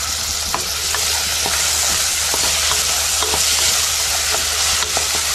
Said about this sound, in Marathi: जरा ढवळून घ्यायचं आणि कांदा आपल्याला जरा नरम करून घ्यायचा आहे।